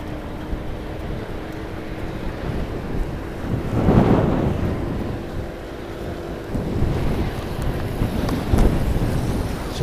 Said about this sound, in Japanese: 風吹いてるな。